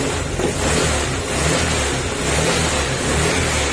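A Honda Click 150 scooter engine runs steadily nearby, a low continuous rumble with slight surges, no voices.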